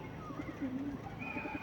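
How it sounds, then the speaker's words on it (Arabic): Pigeons coo softly inside a coop, low repeated throaty calls rising and falling in short pulses against quiet background noise. "وده الحمام اللي احنا فتحنا له"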